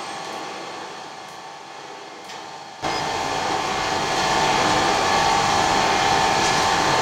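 A BL505 brake lathe runs steadily with a constant whirring hum, then a louder broadband hiss joins as sandpaper is pressed against the spinning brake rotor, holding at a sustained, close, loud level.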